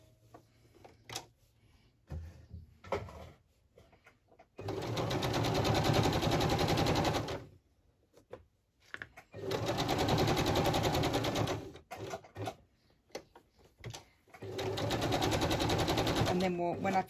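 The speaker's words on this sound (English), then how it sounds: "I'm actually just going to machine stitch in place the fabric, and I'm just going to put a straight stitch" A sewing machine straight-stitches fabric in place for applique on a fabric journal cover, running in three long, steady bursts separated by quiet pauses with light handling noises.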